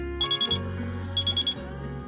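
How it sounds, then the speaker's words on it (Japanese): A mobile phone alarm rings close by, sounding two clusters of rapid electronic beeps over a sustained synthetic tune. "運悪く、携帯のアラームが鳴ってしまいました"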